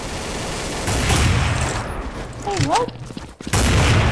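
Rapid gunfire from a Counter-Strike Source shooter game, dense bursts of shots close and loud throughout, with voices talking and exclaiming over them.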